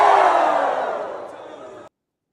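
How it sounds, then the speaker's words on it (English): A student crowd at a Colorado Buffaloes game-week event lets out a long, loud collective Ric Flair-style woo that starts strong and slowly fades before cutting off into silence. "Give it 2 claps and a Ric Flair."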